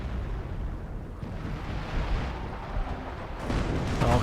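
Calliope rocket artillery barrage in Company of Heroes, a dense rumbling roll of overlapping explosions that swells toward the end, heavy low booms continuing without a break.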